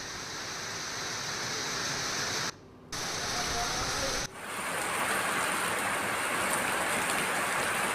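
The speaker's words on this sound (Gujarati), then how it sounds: "આજે પણ ધીમી ધારે વરસાદ વરસ્યો" Steady light unseasonal rain falls in Gujarat as a dense, even hiss, broken by two brief cuts near the start before the hiss continues unchanged.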